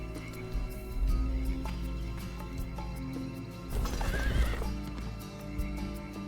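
A horse in the video game Age of Wonders 2 gives a loud, close, drawn-out neigh midway, with hoof clip-clops and game ambience before and after and no voices.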